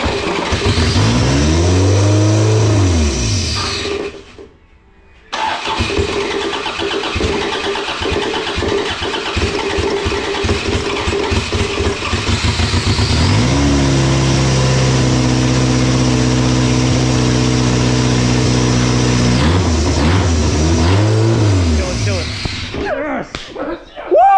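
A lean-running endurance race car engine fires up, then revs hard in repeated rising and falling sweeps around a brief dropout. Loud and close, it shifts into a long steady high-rpm hold before another climb, with excited voices around it.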